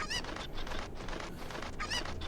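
A Cucco chicken in the video game Majora's Mask gives a raspy, honking cluck near the start and again near the end, with a steady game ambience continuing underneath.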